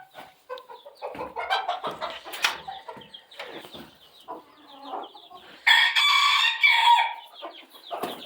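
Hens cluck and a rooster crows inside a poultry coop, with busy close clucking and cackling followed by a loud crow near the end.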